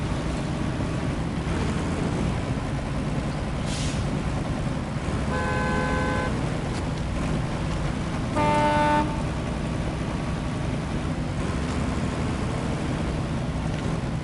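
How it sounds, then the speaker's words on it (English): Ford Raptor truck horn giving two short, thin honks a couple of seconds apart over a steady engine and wind rumble, with no speech. "The Raptor's a good truck, but the horn's kind of a girly horn."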